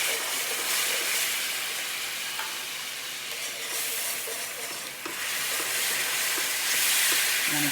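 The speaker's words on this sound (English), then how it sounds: "you're going to want this to bubble for a couple seconds, maybe even a minute, just so it can get that butter flour mixture working" A butter and flour roux bubbling and sizzling steadily in a pot, with occasional stirring scrapes, a continuous close hiss with no talking.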